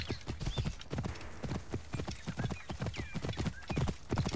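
Horses in Assassin's Creed Origins, a quick rhythmic clip-clop of trotting hooves running throughout, with several high whinnies and neighs breaking over the hoofbeats, close and lively.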